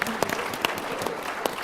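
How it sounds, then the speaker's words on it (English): Dense audience applause at a plenary conference session on the 2020 election, a steady loud wash of many hands clapping with a few sharper claps standing out, no talking. "Can we get a round of applause for this man?"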